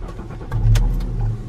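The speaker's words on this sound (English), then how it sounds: "so now I'm gonna turn the car on." A Lincoln MKZ car starting from inside the cabin: a brief low engine turnover that swells into a rumble and settles, with a few clicks and knocks around it, close and fairly loud, with no talking.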